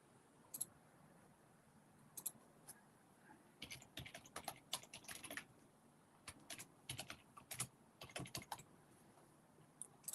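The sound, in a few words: typing a password on computer keyboard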